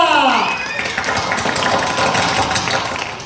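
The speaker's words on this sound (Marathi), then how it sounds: "फुटबॉलचे जोरदार टाळ्या वाजवून स्वागत करा." An audience at a Marathi stage play breaks into dense, loud applause that rolls on steadily after a brief opening burst of voice.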